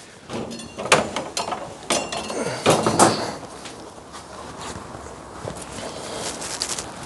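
Several sharp knocks and clatters of cooking containers for lamb, pumpkin and sweet potato being set down and shuffled, with rustling in between, close by, fading to quieter handling.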